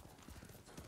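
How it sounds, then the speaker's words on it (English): Horse hooves trotting in the video game Ghost of Tsushima, a quick, faint clip-clop rhythm heard briefly on its own. "Trotting forward. You get it? Because we're a horse."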